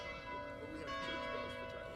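Church bells ring at a commemoration gathering, a faint, sustained metallic ringing with layered overlapping tones heard from a distance.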